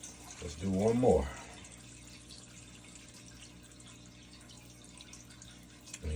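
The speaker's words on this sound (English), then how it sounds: "And you see the water coming out the pipe." Water pours steadily from the discharge pipe of a water-powered backup sump pump, a continuous broadband rush. Someone speaks briefly at the start.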